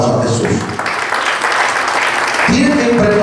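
Church congregation clapping loudly together during a Spanish-language service, a dense, steady wash of applause with voices mixed in near the start and end.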